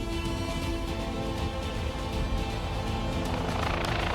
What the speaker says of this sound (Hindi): ऊपर देखिए हेलीकॉप्टर है और ऊपर से पुष्प वर्षा भगवान केदारनाथ और उनके भक्तों पर लगातार की जा रही है।